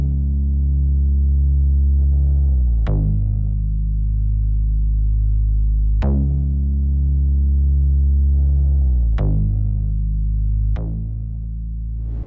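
A synth bass from a KBZ one-shot sample in FL Studio plays a slow line following chord root notes, sustained tones changing pitch every few seconds with sliding attacks, loud and alone.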